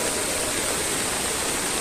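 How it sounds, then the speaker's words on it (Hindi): Lingmala waterfall in the rain, water pouring down from above in a steady, dense broadband rush that holds evenly throughout with no break. "ऊपर से पानी बह के आ रहा है।"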